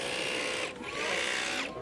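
A hammer drill runs at a busy street flea market (braderie) in Chambéry, a loud, steady whining grind that dips briefly, then resumes at full power and cuts off near the end.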